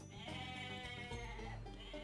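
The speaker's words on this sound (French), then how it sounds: "c'est des chèvres." Bleating goats in the game Age of Mythology, a wavering nasal cry held over a couple of seconds, fairly close, with no talking.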